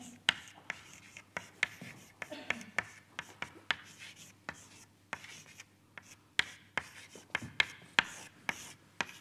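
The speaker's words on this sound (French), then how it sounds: "Alors, je réécris l'équation KPZ. J'écris à une dimension." Chalk tapping and scraping on a blackboard as an equation is written out during a mathematics lecture, a run of sharp clicks and short scratchy strokes at an irregular pace, close and quiet, with someone speaking intermittently.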